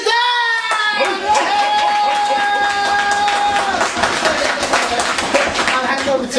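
An audience claps and cheers for a speaker at a health and prosperity event. The applause is loud and dense and runs steadily through the whole stretch, with whooping voices on top.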